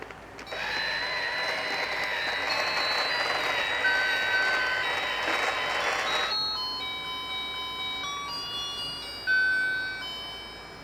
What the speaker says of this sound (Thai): ใส่แบงค์เข้าไปด้านบนนะคะ มันก็จะดูดแล้วก็จะมีเสียงเพลงออกมาด้านนี้ค่ะ